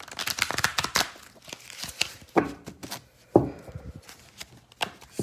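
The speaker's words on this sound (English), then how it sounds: "I'm going to still shuffle though." Tarot cards are shuffled by hand in a close, dry sequence of riffles, snaps and papery slaps, with a few sharper strikes standing out among softer rustling.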